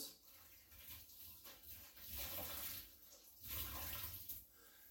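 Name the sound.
water rinsing in a kitchen sink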